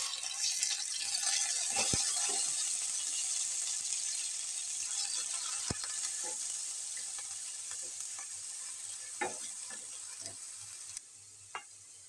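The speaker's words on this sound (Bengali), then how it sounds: "ওই তেলেতেই আমি একটা পেঁয়াজ গ্রেট করে রেখেছিলাম, এটা দিয়ে দেবো" Grated onion dropped into hot oil left over from frying pointed gourd, a steady, close hiss of frying that runs the whole time, broken by occasional sharp clicks and knocks from stirring.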